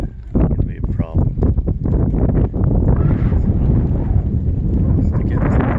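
Wind buffets the microphone outdoors on a boat trip from Little Port Elgin to White Cloud Island and Wiarton, a loud, steady low rumble with gusty bursts throughout, mixed with voices talking.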